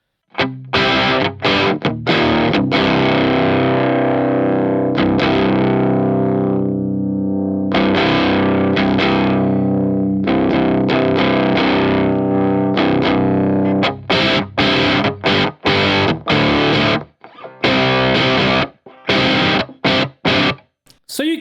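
A heavily distorted electric guitar on the bridge pickup through an Electro-Harmonix LPB-3 boost pedal, gain maxed and boost lowered, plays sustained chords and chugging stabs, loud and saturated, with short pauses between phrases.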